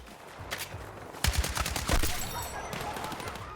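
An RPK-M machine gun in Battlefield 6 lets off rapid bursts of gunfire at a fairly slow cyclic rate, with sharp, punchy shots clustered in the middle and quieter game ambience around them.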